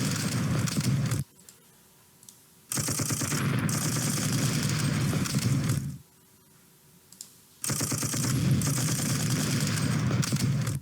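Infantry gunfire in the Panzer Corps strategy game: dense rattling bursts of rapid shots, loud and close, in three long volleys separated by short quiet gaps, with no talk.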